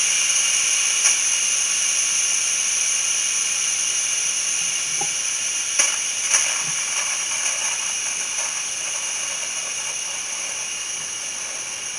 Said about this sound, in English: let's let the steam off